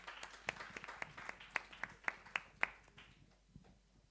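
Sparse, quiet applause from a small audience at a science talk on materials conservation, a dozen or so distinct claps in an irregular rhythm that thin out and fade to near silence.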